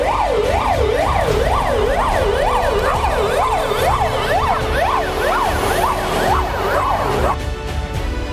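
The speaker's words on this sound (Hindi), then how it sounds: "तभी एम्बुलेंस वहां पहुंच गई।" A cartoon ambulance siren wails in a fast repeating up-and-down sweep, loud and close over a rumbling vehicle engine, keeping a steady rhythm before cutting off near the end.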